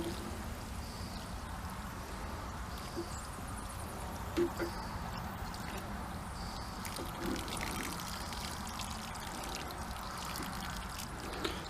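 Water is poured over a Chinese elm bonsai in its pot, giving a soft, steady trickling pour that runs the whole time, quiet and close, with a few faint knocks.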